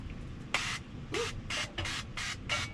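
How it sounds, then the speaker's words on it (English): Five or six short hissing sprays from an olive oil pump spray bottle, close by, in quick bursts separated by brief pauses, with faint background rumble. "little olive oil spray."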